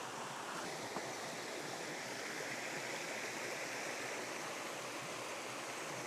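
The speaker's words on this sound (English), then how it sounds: "I'm gonna go down here to this waterfall." A woodland trail waterfall roars in a steady, dense wash of rushing water, close and continuous throughout with no voices over it.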